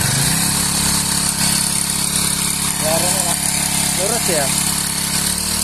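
Small motorized sprayer engine running at half throttle with a modified nozzle, a steady buzzing drone close by, with a person speaking briefly over it.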